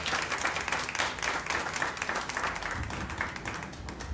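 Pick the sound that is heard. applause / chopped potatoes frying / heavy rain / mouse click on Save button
applause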